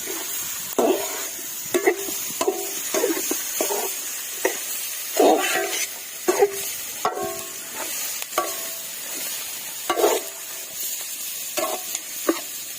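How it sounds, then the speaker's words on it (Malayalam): Masala-marinated chicken for a Kerala-style chicken chukka sizzles in a hot pan while a spoon scrapes and clatters through it in repeated, uneven strokes, close and fairly loud over a constant frying hiss. "ഇതിലേക്ക് നമ്മൾ മസാല ചേർത്ത് വെച്ചിരിക്കുന്ന ഇറച്ചി ഇട്ട് കൊടുക്കാം നന്നായിട്ട് ഇറക്കി കൊടുക്കണം"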